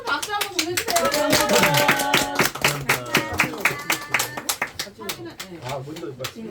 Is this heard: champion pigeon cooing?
no